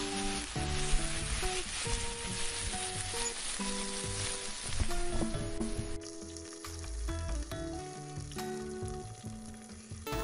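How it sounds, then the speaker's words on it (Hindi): Onion frying in oil in a pan for vegetable filling, a continuous crackling sizzle heard alongside steady background music, moderately quiet and unbroken for several seconds. "अब एक पैन में ऑयल ले लेते हैं। पहले प्याज डाल के थोड़ा सा इसको फ्राई कर लेते हैं।"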